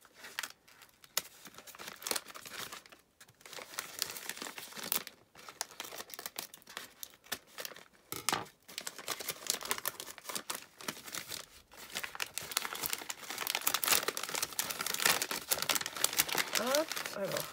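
A gift package wrapped in sticky tape being unwrapped up close, with repeated crinkling, tearing and crackling of paper and tape in irregular bursts that grow busier and louder toward the end, alongside intermittent speech.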